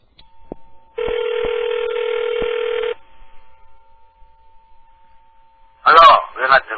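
A telephone being dialed, with a few clicks and then a steady two-second tone, followed after a pause by the start of a voice from the other end.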